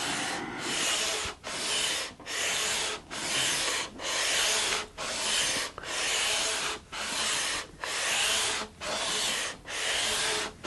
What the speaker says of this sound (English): So a bit more ASMR sanding.